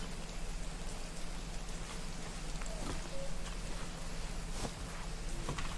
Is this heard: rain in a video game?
yes